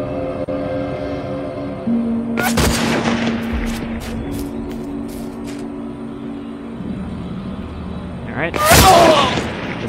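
Gunshots in the video game Hunted, two sharp, loud cracks several seconds apart with a few fainter pops between them, over a low background hum and someone talking.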